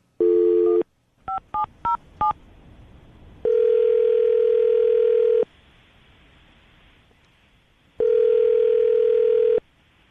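A telephone's dial tone sounds briefly, then a quick run of four touch-tone digit beeps, followed by two long, loud ringback tones separated by a pause as a call is placed.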